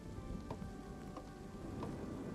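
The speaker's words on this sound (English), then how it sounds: "And it has now just begun starting to rain" Rain pattering steadily in the video game Kingdom Two Crowns, a dense, even hiss of falling drops with low rumbling underneath and faint occasional clinks, continuous and moderately quiet.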